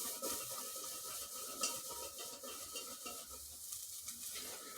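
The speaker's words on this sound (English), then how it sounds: "we got the onions cooking." Onions sizzling in a pan while being cooked and stirred, a faint, steady crackle with occasional scraping and clinks of a utensil against the pan, heard on its own without talk.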